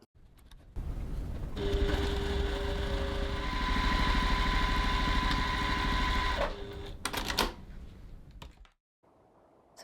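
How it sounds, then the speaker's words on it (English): A sewing machine stitches a second seam along a crossbody bag, running in a steady, close, continuous mechanical whir for about five seconds before stopping, followed by a few brief handling clicks and rustles. "I'm going to stitch the seam again"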